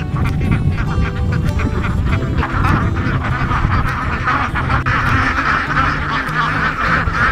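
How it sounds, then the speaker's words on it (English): Loud, continuous quacking from a group of ducks close by on a farm, with overlapping honks and calls throughout. "Ducks."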